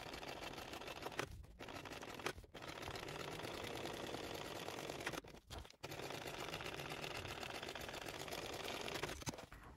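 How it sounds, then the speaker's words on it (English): A sewing machine runs steadily, topstitching an eighth-inch seam allowance through an all-cotton barrel bag seam. It sounds like a continuous mechanical whir, broken by two short pauses. "we're going to top stitch through this seam with an 1/8 inch seam allowance"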